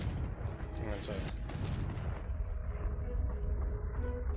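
A Confringo fire spell explodes in the Hogwarts Legacy video game, a loud booming blast with crackling debris in the first two seconds that then fades into a low rumbling tail under steady game ambience.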